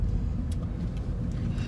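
A 2018 Toyota GT86 engine hums low and steady from inside the car while driving, a continuous near rumble with faint road noise and no talk.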